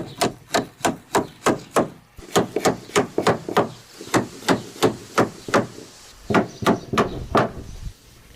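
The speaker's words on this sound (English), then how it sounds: "Then we hammer it in and it holds the board for us." A hammer drives a wooden deck board into place at a forest house, with about twenty sharp, evenly spaced blows in two runs separated by a brief pause, close and clear.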